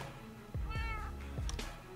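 A cat meows in the video game Minecraft, giving two or three short, clear meows in quick succession against quiet game background, close and fairly loud.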